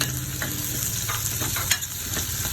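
Ginger, chopped garlic and green chillies sizzle in a pan for thattu dosa, a close, continuous frying hiss broken by a few spatula stirs and light scrapes, with no voices.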